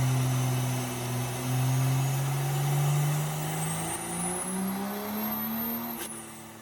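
A damaged Cummins 6.8 diesel truck engine making a fuel-only pull on a dyno, a loud sustained drone whose pitch climbs steadily as it revs higher, ending in a brief high whistle near the top.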